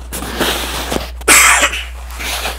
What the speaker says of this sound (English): Excuse me, sorry about the cough.